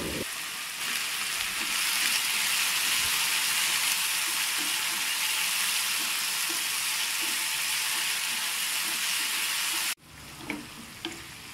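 Ground gravy and salt fry in a pan for a fish pickle, giving a loud, steady sizzle that runs nearly unbroken for about ten seconds, then cuts off and leaves quieter scraping and clatter.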